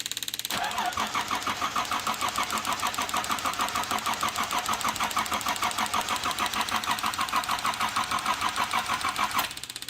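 A 1979 Datsun 280ZX that has sat for a long time cranks and catches, its engine running steadily with a rapid, even mechanical chatter for most of the stretch before cutting out near the end.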